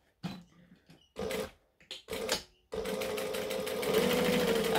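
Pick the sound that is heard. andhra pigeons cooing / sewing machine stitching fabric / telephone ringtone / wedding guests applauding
sewing machine stitching fabric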